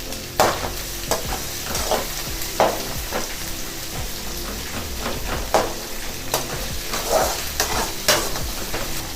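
Onions sauté in a pan for a quail (kaadai) gravy, with a continuous frying sizzle broken by repeated spoon scrapes and stirring knocks at a steady, unhurried pace, close and fairly loud.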